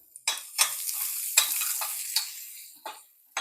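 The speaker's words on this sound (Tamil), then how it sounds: "வெங்காயம் நல்லா பொன்னிறமாக வறுக்கணும்." Onion, cumin seeds and two dried red chillies frying in oil in a pan for a Tamil-style dhal gravy, with a steady soft sizzle broken by several sharp stirring scrapes.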